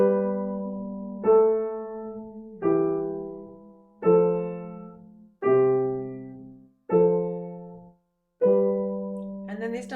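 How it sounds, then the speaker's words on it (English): Piano playing Pachelbel's Canon with a teacher's accompaniment, slow sustained chords struck about every one and a half seconds, each decaying before the next, clear and alone. "the piece I use for that is Pachelbel's canon"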